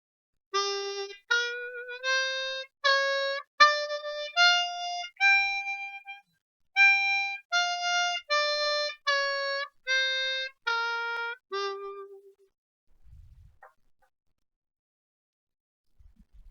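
A harmonica plays a G blues scale as a slow run of single notes using bends and draws, rising and then falling back down, each note clear and separate, ending in silence.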